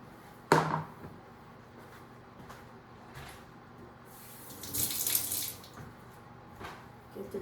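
Water splashed or sprayed from a sink tap to wet the top of a jalapeño sourdough loaf, a faint hiss swelling midway after a sharp knock near the start, with quiet kitchen background.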